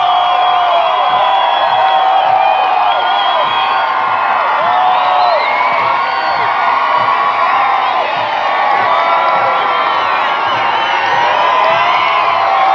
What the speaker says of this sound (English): People are just going crazy.